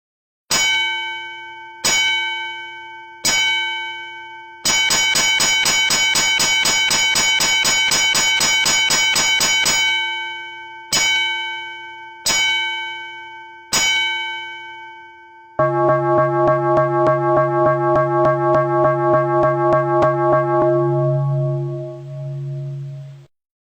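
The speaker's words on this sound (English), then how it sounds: "A vessel aground must ring the bell and, if required, sound the gong" A ship's bell and gong sound the signal of a vessel aground: three separate bell strokes, a rapid ringing run, three more strokes, then a sustained rapid gong roll that fades out, loud and clear with no talk.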